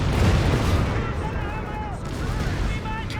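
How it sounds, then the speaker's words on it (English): Rapid gunfire and artillery booms from a Company of Heroes 3 match with Afrika Korps and Wehrmacht against US and British forces, a dense continuous barrage under a commentator's voice, with wavering tones over it. "Target there getting shot at from all sides"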